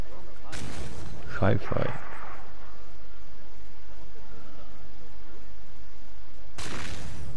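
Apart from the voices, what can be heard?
explosion in a video game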